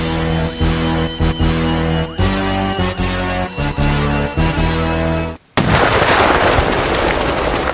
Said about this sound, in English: I didn't expect such a powerful explosion.